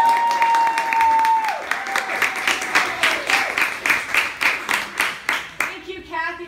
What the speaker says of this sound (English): And everybody else cheer as loudly as possible.